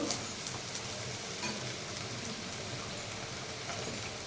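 Punukulu fritters fry in hot oil, a steady broadband sizzle and crackle running evenly throughout with small pops, close and moderately loud, no voices.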